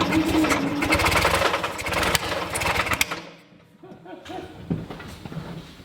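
Vintage NSU Prinz engine running after a carburettor adjustment and ignition recheck, a busy, rapid mechanical chatter for about three seconds that then drops away to a quieter, uneven idle.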